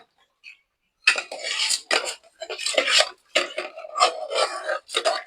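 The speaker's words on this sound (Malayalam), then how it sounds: "അതിലേക്ക് നമ്മൾ കഴുകി വെച്ച അരിയാണ് അരി ചേർത്ത് കൊടുക്കാം" Metal pot and utensil clatter with scraping and clinking in bursts, close by, as washed rice is poured into a cooking pot and stirred.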